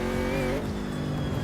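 A race car in a sim racing game understeers through a turn, its engine note droning loudly at close range as the tires give a brief squealing whine that fades after a moment.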